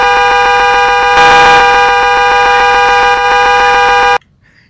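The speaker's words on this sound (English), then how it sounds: "I don't know why the horn was honking." A 2022 Lincoln Corsair's horn blares in one loud, continuous honk lasting about four seconds, then cuts off abruptly into near silence.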